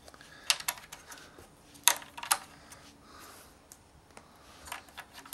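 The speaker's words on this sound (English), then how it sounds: "we're going to place bricks across, facing out like this to extend the length of our sound chamber" Toy building bricks placed and pressed together while extending a toy guitar's sound chamber: a few sharp plastic clicks and snaps spaced apart over a quiet background.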